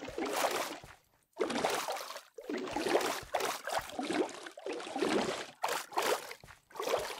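Watering crops in the Minecraft Farming Valley game: repeated splashing, pouring water bursts, each lasting about a second, separated by short silences, fairly loud and with no talking.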